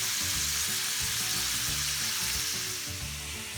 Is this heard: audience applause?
no